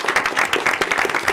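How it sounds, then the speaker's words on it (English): School staff are applauded at a school board meeting: a short burst of many people clapping together, dense and fairly close, with no talking over it. "Let's give them a big, big round of applause."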